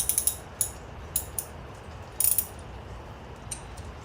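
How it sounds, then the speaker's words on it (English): Small clicking ratchet-like bursts from a T25 Torx driver turning a handlebar clamp bolt on a motorcycle, several quick clusters of metallic ticks at close range over a low garage hum, no talking. "that bolt I am using a T25 to get this bolt out"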